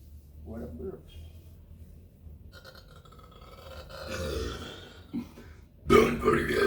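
Low grunting belches come from a person moisturizing their skin, with soft rumbles early on and a sudden loud, rough burp near the end.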